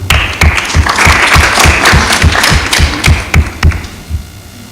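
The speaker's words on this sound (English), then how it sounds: "If we could give him a big round of applause." An audience at a Somali community evening event in Islington, London applauds close by, with loud clapping and regular low thumps that fade out near the end.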